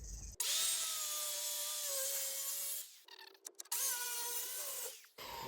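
A power saw with a dulling blade whines loudly as it cuts a chamfer in a wooden deck beam, pausing briefly in the middle before a second sustained cut, close and harsh.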